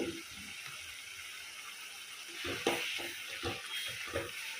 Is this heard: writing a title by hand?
no